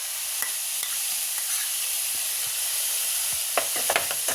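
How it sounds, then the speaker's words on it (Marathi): Soy sauce, tomato sauce and chili sauce sautéing in a hot pan for a street-style veg roll, a steady close sizzle and hiss with a few sharp spatula scrapes and taps toward the end. "हे तिन्ही एकत्र छान आपल्याला आता परतून घ्यायचे."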